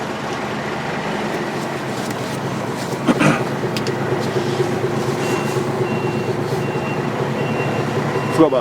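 A truck sounds its reversing warning while backing out past parked cars, a thin repeating beep over a steady engine rumble, starting midway and fairly close.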